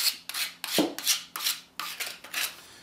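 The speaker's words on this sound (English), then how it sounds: "Up with the sanding block." Repeated rasping strokes of a sanding block across a hard plastic edge of a caulk finishing tool, about eight back-and-forth passes in a steady rhythm, close and fairly loud.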